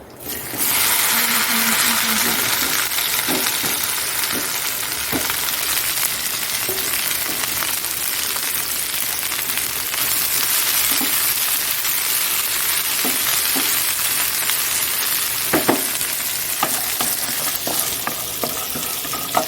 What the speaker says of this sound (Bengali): ভেন্ডিগুলো কাটা রয়েছে দিয়ে দিলাম